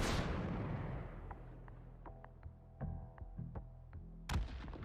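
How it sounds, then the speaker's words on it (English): In a video game, distant explosions roll in as a low, rumbling boom that fades, followed by scattered muffled thuds and cracks and one sharper blast near the end. "distant aspect sound for explosions"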